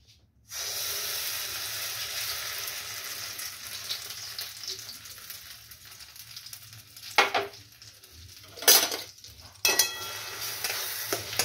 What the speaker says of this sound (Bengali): দেখুন, আমি এখানে ছোলার ডাল আপনাদের দেখালাম, মটর, কড়াইশুঁটি, আদা, কাঁচা লঙ্কা আমি জাস্ট একটু খালি তেলে নেড়ে নিয়ে মেখে নেব।